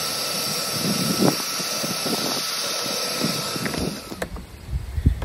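A lightweight battery-powered Milwaukee shop vac runs steadily, sucking up ground walnut shells through a bucket-top cyclone dust collector; a constant close, loud whine with scattered rattles and clicks of debris, easing slightly near the end.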